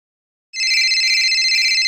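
A telephone rings on an outgoing call: a steady electronic ring tone begins abruptly after a brief silence and continues loud and unbroken, with no voices.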